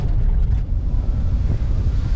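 Strong wind roars across the microphone at the edge of a lagoon near São Pedro da Aldeia as the weather closes in, a loud continuous low rumble with no talk.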